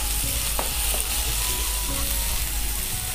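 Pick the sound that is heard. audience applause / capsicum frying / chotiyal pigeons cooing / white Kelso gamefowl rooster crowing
capsicum frying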